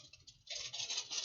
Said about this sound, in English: Can you hear this noise? Sounds like rain, doesn't it?